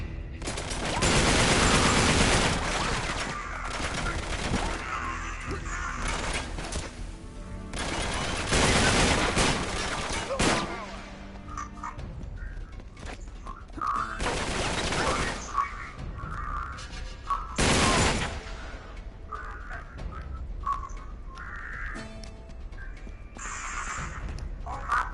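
Heavy gunfire in a PS4 video game as snipers open up: loud overlapping bursts and booming shots in waves, close and dense, with brief quieter gaps between volleys.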